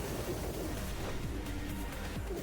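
Pigeons coo softly in the Yakuza: Like a Dragon video game, low murmuring calls sitting under a steady, fairly quiet background of in-game ambience for a couple of seconds.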